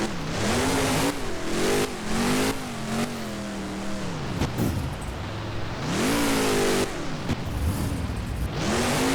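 Monster truck engine in BeamNG at a Monster Jam beach freestyle event, loud revving that surges and drops in repeated bursts as the truck launches toward a sand pile.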